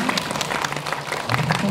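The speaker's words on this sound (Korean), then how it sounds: "네, 박수." Brief applause from an audience at a film screening Q&A event in a cinema, a short burst of scattered clapping at moderate volume mixed with crowd noise.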